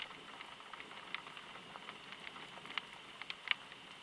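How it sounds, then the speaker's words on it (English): Rain pattering on the windows and roof of a forest cabin at night, a soft steady patter with scattered sharper drops, faint and close, no voices. "Hearing the sound of the rain on the windows of the cabin."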